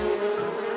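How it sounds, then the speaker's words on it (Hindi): A cartoon swarm of bees buzzes steadily and densely throughout, a continuous close drone with no voices. "उस पेड़ पर लगे मधुमक्खियों के छत्ते से मधुमक्खियों का झुंड निकला और उसको काटने लगा"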